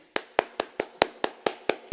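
Nine sharp, evenly spaced hand claps close by, each a crisp isolated smack with a quick decay and silence in between.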